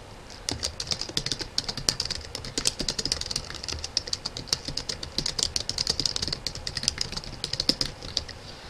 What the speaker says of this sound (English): So you click in the box and just type some notes.